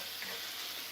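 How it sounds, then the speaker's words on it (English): Chicken frying golden brown in olive oil gives a steady, close hiss and crackle that runs without pause, and no one speaks over it. "So I'm frying the chicken golden brown."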